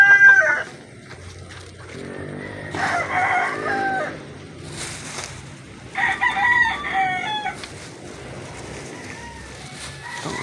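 Several roosters crow in turn, long drawn-out calls with some near and some farther off, while hens cluck and voices murmur in the background.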